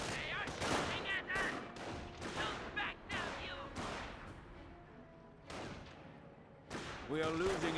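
Gunfire bursts from a BAR rifle and other infantry weapons in a Company of Heroes battle, rapid rattling volleys starting and stopping in clusters, with a voice speaking over parts of it.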